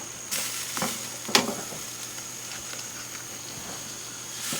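Baby back ribs cook over direct heat with a steady broad sizzle, with a few sharp clicks and scrapes popping out over the continuous hiss.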